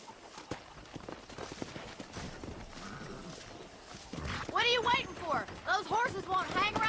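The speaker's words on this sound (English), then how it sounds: "let's see if we can't wrangle some horses." Horse hooves clatter in a quick galloping rhythm in Red Dead Redemption, and a voice talks over them in the second half.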